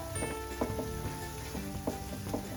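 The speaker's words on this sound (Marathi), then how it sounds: "आता आपल्याला पूर्ण असं व्यवस्थित अगदी परतून घ्यायचं आहे" Moong dal roasts in a pan for sweet halwa, giving a continuous close sizzle and crackle with soft spoon scrapes recurring every half second or so as it is stirred, and no one talking.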